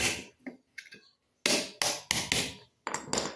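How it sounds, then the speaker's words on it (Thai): Nails are hammered into a homemade hand rake, first a few light taps and then four loud, sharp blows in quick succession, close by and alone. "ครับตะปูครับให้เราตอกไปแล้วครับ"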